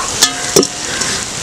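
Tapioca biryani being stirred in a pan, two brief scraping strokes against a soft steady sizzle, close by and without talk.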